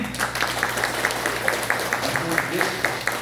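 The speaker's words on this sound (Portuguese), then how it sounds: "vamos pedir uma salva de palmas" A church congregation at a New Year's Eve service applauds, a steady patter of clapping with regular sharper accents, fairly close, with voices mixed in underneath.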